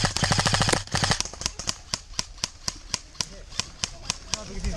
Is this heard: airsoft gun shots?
yes